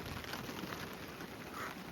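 Light, fine drizzle falls outdoors, making a soft, steady hiss that stays even and continuous with no voices.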